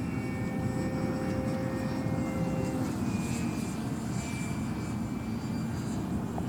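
An H-King Yak-11 RC warbird with gear and landing flaps down on approach, its small propeller engine a steady buzzing drone with faint whining tones, moderately distant and continuous.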